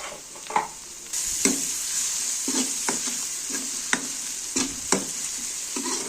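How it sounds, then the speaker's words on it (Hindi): Garlic ginger paste frying in a pan with browned onions for a spicy pakora curry, giving a steady close hiss with repeated scraping stirs about once a second. "अब मैं इसमें डालूंगी लहसुन अदरक का पेस्ट"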